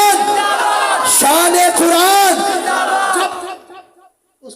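A crowd loudly answers a takbir chant at a religious sermon gathering, many voices rising together in a sustained shouted response for about three seconds before breaking off into quiet.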